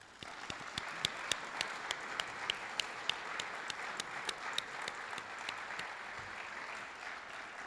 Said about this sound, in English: I think we owe them all a big round of applause